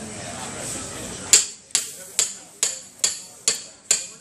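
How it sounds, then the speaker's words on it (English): An awl is hammered into a skid steer tire with seven sharp, evenly spaced metallic strikes ringing close and loud after a short stretch of background noise. "I'm going to hammer this awl right in there."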